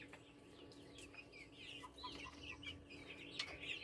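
Young chicks in a temporary homestead coop cluck and chirp in a steady busy chorus, with bright peeps scattered over low farmyard background noise.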